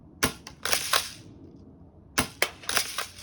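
Two pairs of sharp snaps from a Winchester Model 12 BB gun, each followed by a quick rattling click, spaced about two seconds apart, close and fairly loud with quiet in between.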